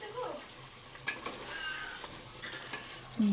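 Beef being stirred and fried in a pan for Bangladeshi kala bhuna, with a steady close sizzle, scraping spoon strokes against the pan and a few sharp clinks, no talking.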